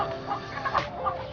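Free-range chickens still shut inside their coop give soft, steady clucks and murmurs close by, quiet and without talk, over about a second and a half.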